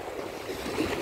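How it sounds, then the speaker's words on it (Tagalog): Sea waves splash at high tide near deep water, making a brief, moderately loud, continuous wash of churning water with low rumble and no voices. "Kasi may naka-high tide siya. Natalsik ng alon"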